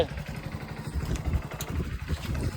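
A motorcycle engine runs steadily and close by on a rural outing to pick raw mangoes, a low rumbling putter with a little clatter and no speech.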